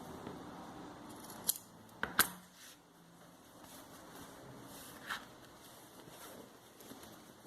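Scissors snip the fabric corners of a sewn mug rug, a few sharp close cuts clustered near the start, then quieter handling sounds over faint room noise.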